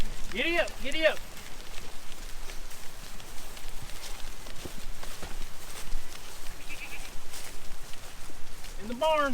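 Goats bleat in short wavering calls at the start and end, over a constant rustle of movement and outdoor noise.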